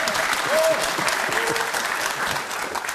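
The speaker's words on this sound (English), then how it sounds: "You can all applaud this." Studio audience applause at a televised political debate in Warrington, a steady dense wash of many hands clapping throughout, with brief tonal voice-like traces early on.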